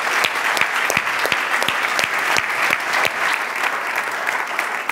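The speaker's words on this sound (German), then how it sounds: "Applaus für Andi Sam!" A sales breakout session audience breaks into dense, sustained applause, many hands clapping steadily and loudly at close range for the whole stretch.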